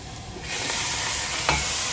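Minced meat for spaghetti in tomato sauce goes into a hot pot, and a loud, steady sizzle of frying starts about midway, with a brief stirring scrape near the end.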